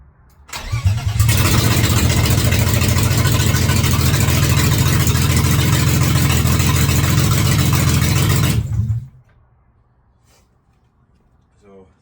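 A BMW E36 engine with no exhaust fitted starts and runs very loud and raw for several seconds, a steady roaring idle that cuts off abruptly, followed by quiet.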